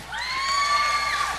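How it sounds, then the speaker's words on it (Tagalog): A crowd at a prize-giving contest lets out a sustained, shrill, high-pitched cheer that rises, holds for about a second and then fades, with no clear clapping. "Paramihan ng palakpak, ha?"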